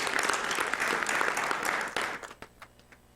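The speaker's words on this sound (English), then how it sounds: "Can we get a round of applause?" Audience applause at a speedrunning charity marathon event, a dense, steady round of clapping that fills most of the moment and then tapers off into a few scattered claps.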